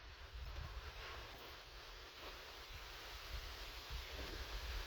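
Strong wind gusts roar steadily outdoors, a broad continuous rushing that swells slightly toward the end, faint but constant with no voices.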